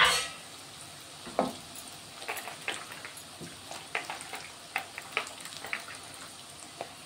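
Eggplant pieces go into a pan with turmeric and are stirred. A quiet sizzle runs underneath scattered clicks and scrapes from the spatula.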